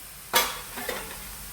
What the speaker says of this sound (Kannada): ಇದು 1 ನಿಮಿಷ ಈ ಥರ ಫ್ರೈ ಮಾಡಿ.